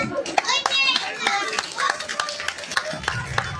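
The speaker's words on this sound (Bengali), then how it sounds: "জোরে হাত তালি দিয়ে উৎসাহিত করলো কি?" Scattered, uneven handclaps from a small audience follow a child's recitation of a Bengali poem, sharp close claps with voices talking underneath.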